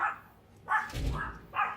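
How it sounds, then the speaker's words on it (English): Many dogs in a dog and cat cafe in Busan break into barking, with sharp bursts near and loud separated by short pauses and an overlapping low rumble of yelps. "Every single dog in that room, well, it appeared that way, started to bark."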